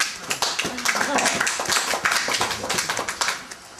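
A class applauds a student, dense overlapping hand claps filling the room at a steady, lively level, with voices mixed in.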